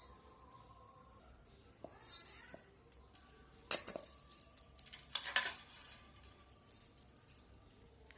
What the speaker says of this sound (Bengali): সমস্ত আম আমি এই মিক্সি জারের মধ্যে দিয়ে দিয়েছি